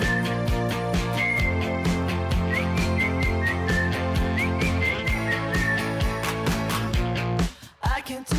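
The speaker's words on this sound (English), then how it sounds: "A brand new Canadian hit song that features a whistling hook" Whistling hook from a song by a Toronto band: a clear melodic whistle rides over a steady driving beat and band backing, cutting off near the end.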